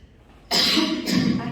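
A woman recovering from flu and a cough gives a sudden, harsh cough burst, then a second rougher push, close to the microphone during a spoken lecture.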